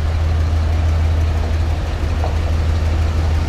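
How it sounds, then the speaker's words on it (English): A 1995 Ford F-150 truck engine with an exhaust leak idles steadily with a deep, continuous low rumble and a faint rough puffing, loud and close with no talking. "It does have an exhaust leak on this side."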